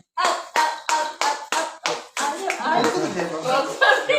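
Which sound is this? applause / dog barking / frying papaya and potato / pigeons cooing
applause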